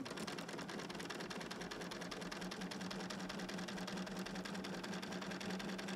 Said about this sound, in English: And I'm going to sew just a hair to the right of the line that I just made.